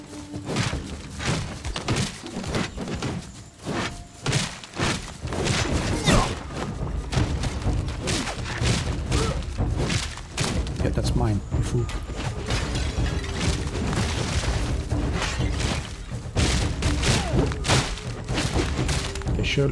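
Structure demolition in the game Soulmask brings a rapid, continuous barrage of heavy thuds, cracks and splintering wood impacts, loud and close, with some talk mixed in.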